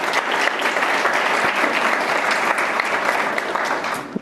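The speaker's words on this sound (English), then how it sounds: "She deserves a round of applause for all of that." Audience applause fills a mayor's keynote address at the Internet Week New York festival, a dense, steady roar of many hands clapping at once that holds at full strength throughout with no voices on top.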